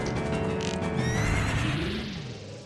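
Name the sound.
Phantom Ganon's horse neighing in Ocarina of Time video game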